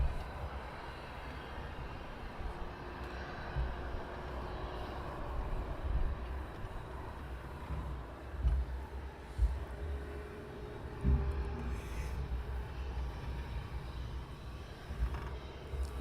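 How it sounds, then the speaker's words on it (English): A business jet departs from Luton Airport in the early morning, its engine roar a low, steady rumble at a distance that swells slightly mid-way, with no voices over it. "Next departure is a Bizjet."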